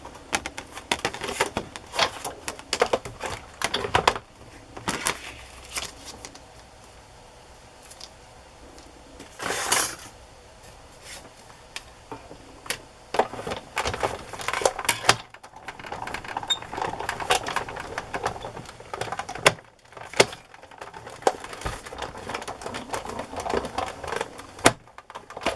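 A die-cutting machine grinds paper scraps through its dies, producing uneven clattering, rattling bursts and sharp knocks at close range over about twenty-five seconds, with no talking.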